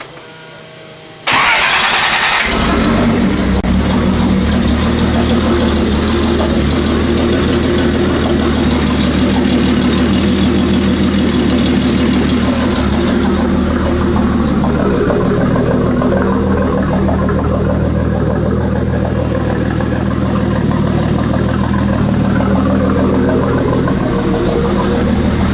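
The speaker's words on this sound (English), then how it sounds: "What's cool is you can hear the turbo whining a little bit under idle." A Datsun 280z fitted with a GT35R turbo fires up and settles into a loud, steady idle with faint turbo whine riding over the engine drone, close and continuous with no talking.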